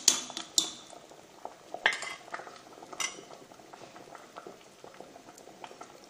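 Agathi greens simmer for sambar in a loosely lidded pot, a gentle bubbling punctuated by several sharp metallic clinks of utensils against the pot.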